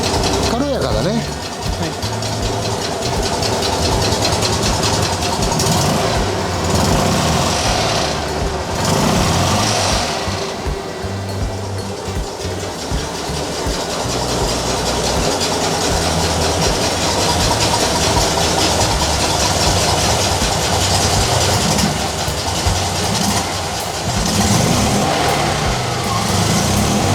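A vintage Fiat 500 (a 1969 500F or 1970 500L) runs with a loud, chattering small-engine sound that rises and falls in revs, with people talking over it nearby.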